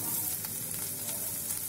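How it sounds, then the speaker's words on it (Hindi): Carrots and peas with fried ginger sizzle steadily in a pan, a close, continuous frying hiss with faint clinks from stirring. "अदरक भी फ्राई हो गई है, इसमें हम ऐड कर देते हैं अपनी गाजर और मटर।"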